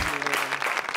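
Studio audience applause on a daytime talk show, a dense burst of clapping filling the whole second at steady loudness, with a faint voice underneath.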